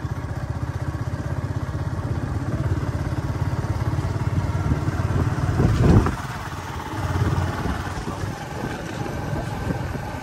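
A motorcycle rides along a forest road, its engine a steady close chugging drone that swells briefly with a passing rumble midway, then settles to a softer, lower hum.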